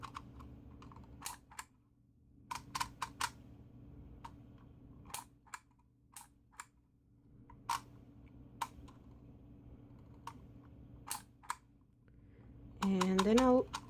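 Embossing label maker pressing letters one at a time, giving sharp separate clicks in an uneven rhythm with short pauses between them, close up. A voice speaks at points, and a brief squeaky mechanical sound comes near the end.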